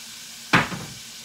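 A spoon drags once through seasoned food in a pan, a single short scraping stir that fades within a fraction of a second, close and fairly loud against a quiet kitchen.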